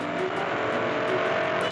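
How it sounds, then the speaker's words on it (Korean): A car's engine roars steadily with the accelerator floored at 110 km/h, a loud, continuous drone with a strong engine tone and road noise, no voices. "동일 차량을 운행하며 시속 110km로 가속 페달을 끝까지 밟아봤습니다. 굉음과 비슷한 엔진 소리가 들립니다."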